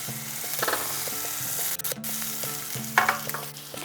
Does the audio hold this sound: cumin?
yes